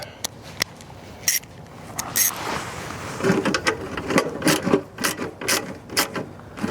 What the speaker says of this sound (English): Now we'll go back with the ratchet and make sure they're